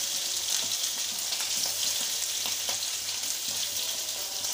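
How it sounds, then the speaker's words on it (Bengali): Puti fish with roe frying crisply in a pan of hot oil, a loud, continuous close-up sizzle dotted with faint spitting crackles throughout, with no voices. "আমি একটু কড়া করে পুঁটি মাছটা ভাজছি।"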